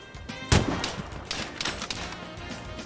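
Sniper rifle fire in a looter shooter game set in Norway: one loud close shot is followed by a scatter of quieter distant reports and impacts.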